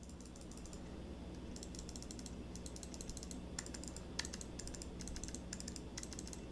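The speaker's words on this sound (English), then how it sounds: "It does have some awesome clicking noise." Buttons on a YCCTEAM Luom G10 gaming mouse click in rapid bursts of crisp ticks, close and fairly faint over a steady low hum.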